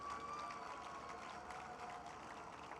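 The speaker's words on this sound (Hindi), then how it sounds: "अबे जोर से ताली बजाओ" Audience clapping in a hall at the 17th Aalmi Urdu Conference in Karachi, a steady, moderately loud wash of many hands that continues without a break.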